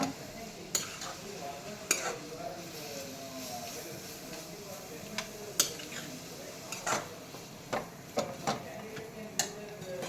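Grated coconut stirred in a pan, a faint low sizzle under irregular sharp ticks and scrapes of a spoon against the pan, close and soft.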